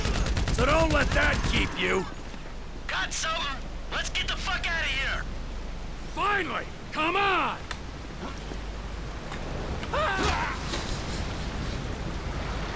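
Gunfire in Grand Theft Auto V story mode, bursts of shooting mixed with game noise while someone talks excitedly over it.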